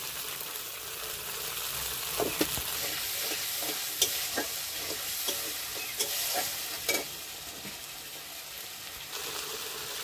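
Coriander powder, turmeric and sugar fry in a pan for a vegetarian paneer and potato dalna, with a steady sizzle and repeated scraping strokes of the spoon, close and moderately loud, and no talking.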